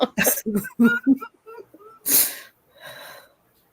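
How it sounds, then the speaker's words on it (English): Someone recovering from pneumonia talks briefly, then gives a single harsh, lingering cough, followed by a softer breathy exhale. "Light lingering cough."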